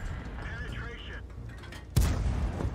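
A T67 tank destroyer's gun fires once in World of Tanks, a single heavy boom that cuts sharply through the battle ambience after a quieter lead-in.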